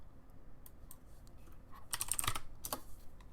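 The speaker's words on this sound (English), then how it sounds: "that's typing like no other. I got clickety clackities" Computer keyboard typing in a quick, uneven burst of clicks, sparse at first and then a dense flurry of clacks toward the end, heard close up with no talking.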